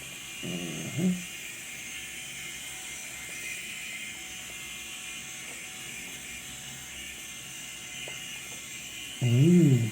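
An Enchen K8 electric shaver runs with a steady, faint mechanical buzz throughout, broken by two short, louder buzzing surges near the start and at the very end.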